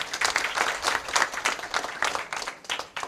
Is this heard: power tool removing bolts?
no